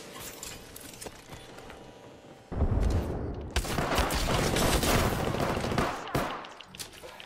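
In Apex Legends, a thrown frag grenade goes off amid bursts of gunfire, with loud rapid volleys and a heavy blast rolling over a quieter opening stretch.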